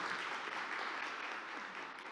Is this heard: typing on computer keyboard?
no